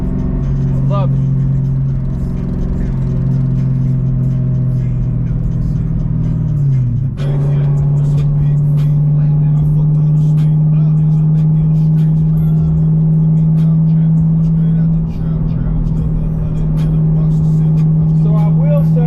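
A 1996 Ford Mustang Cobra with a lowered suspension and a DOHC 4.6 V8 cruises with a loud, steady engine drone. Its pitch climbs and dips through a shift around the seven-second mark, and light talk sits under the engine.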